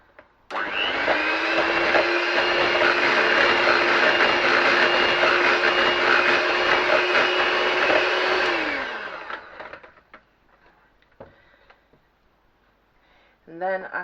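An electric whisk beats red velvet cupcake batter in a steady, loud motor whir that runs for about eight seconds before winding down, followed by quiet kitchen noises and a brief voice at the end.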